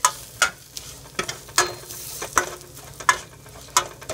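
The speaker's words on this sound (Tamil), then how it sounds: "நம்ம அரைச்சி வச்சிருக்கிற பொடி உள்ளே போட்டுக்கலாங்க. ஒரு வணக்கி விட்டுறலாம்." Ground spice powder is sautéed with garlic in hot oil. A soft sizzle runs underneath, with a steady rhythm of sharp ladle scrapes and clacks against the pan, several per second, heard up close with no voices.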